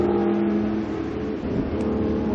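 Engine of a 1974 Porsche 911 race car lapping Lime Rock track at a vintage racing event, a loud steady tonal drone with slight pitch changes as it holds speed.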